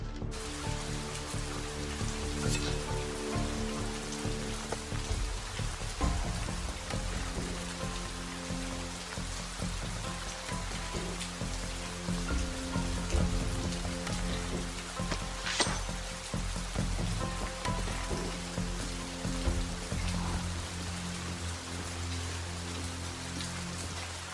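Steady, heavy rain pours down continuously, a dense hiss of drops drumming on surfaces with no pauses, close and loud throughout.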